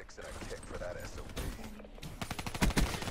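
Automatic gunfire from Call of Duty: Black Ops 3, rapid bursts of shots growing louder toward the end over a busy game mix, with a voice talking early on.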